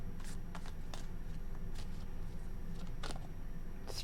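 Soft, irregular riffling of tarot cards, several brief bursts of shuffling spread over a few seconds against a quiet, steady room hiss.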